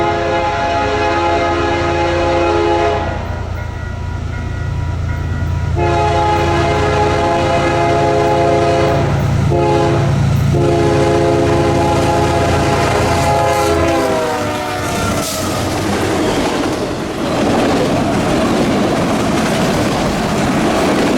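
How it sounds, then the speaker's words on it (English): A CPKC freight train led by all-CP locomotives, including an AC-44 unit, roars past at speed. A loud multi-tone horn blasts repeatedly over heavy engine rumble, then the clatter of passing cars carries on. "CPKC 730 was the next proper train, which flew by with an all-CP consist, the second unit being a very weird AC-44"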